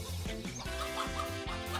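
A mother hen clucks in short, repeated low bursts, a rhythmic pulsing call heard up close against steady background noise.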